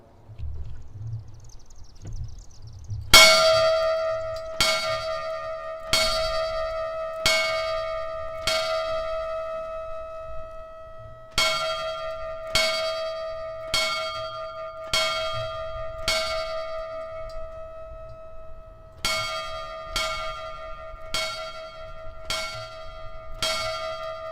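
Memorial bells toll for fallen firefighters at a national memorial service, a series of clear, ringing strikes in spaced groups, each ring decaying slowly, loud and close over a faint low background hum.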